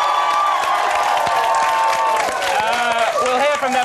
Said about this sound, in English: a bunch of people who I guarantee won't be able to stop themselves from cheering when I get to the end of this sentence